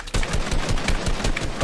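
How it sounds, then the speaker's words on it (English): Rapid gunfire in a competitive Fortnite duos match: a loud, continuous burst of quick repeated shots that sounds close and carries on without pause, with no voices over it. "He's shooting at us already."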